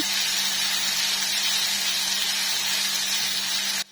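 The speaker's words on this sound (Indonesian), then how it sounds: "Setelah itu kita tumis aja bumbunya sampai wangi dan juga matang, sambil terus diaduk-aduk ya supaya matangnya merata" Spice paste sizzling in a hot pan while being stirred continuously, a steady close hiss of frying with a faint low hum underneath, no voices.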